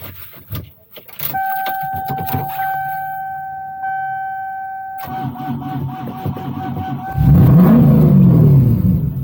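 A car's starter cranks on a weak, failing battery in a snowy blizzard, with whirring and a steady tone before the engine catches and revs loudly near the end, alone without talk.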